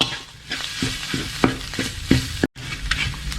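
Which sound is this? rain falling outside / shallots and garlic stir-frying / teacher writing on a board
shallots and garlic stir-frying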